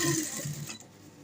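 A sewing machine stitches along the glued neckline of a baby shirt, giving a quiet, steady mechanical whir and needle patter that runs close and alone before trailing off.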